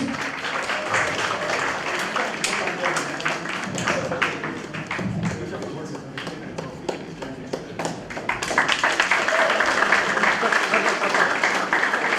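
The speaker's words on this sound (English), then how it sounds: "Give a big round of applause." An audience at a state-level inter-medical-college quiz award ceremony breaks into sustained applause, a dense steady patter of many hands that swells louder toward the end, with faint voices mixed in.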